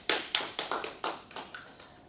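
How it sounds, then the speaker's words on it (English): A small group claps in a short, uneven burst of about nine distinct hand claps, close and fairly quiet, with no talking. "Give them a big round of applause, sir."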